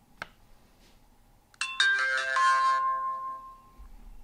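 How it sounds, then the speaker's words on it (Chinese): A cheap entry-level 4K compact camera with a tiny f2.6 lens plays its power-on chime: a short click, then a bright, ringing electronic melody of sustained tones that rings out clearly and fades, with no talking. "首先给大家欣赏一下这台相机的开关机的声音"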